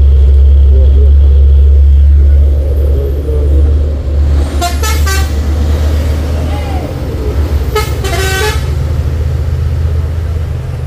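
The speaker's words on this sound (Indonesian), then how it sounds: "Banyak nih ramai truk yang menanjak ke Bukit Kodok." Trucks climb the hill road to Bukit Kodok with a deep engine drone and two loud bursts of air horn honking, rough and close, with people talking.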